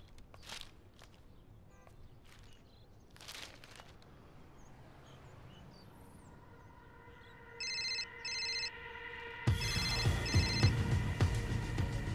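Indoors in a home, a telephone rings in short double bursts after quiet footsteps and faint ambient sounds, then louder room noise swells as the ringing continues.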